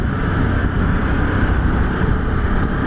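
Harley-Davidson CVO Pan America motorcycle engine running in sport mode, a loud steady low rumble with continuous drone, heard close and alone without talk.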